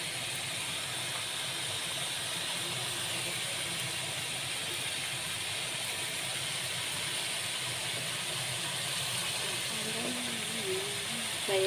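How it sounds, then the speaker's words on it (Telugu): Cabbage frying in a pan gives a steady, close sizzle, an even hiss that holds without a break from start to finish. "ఫ్రై అవుతుందండి."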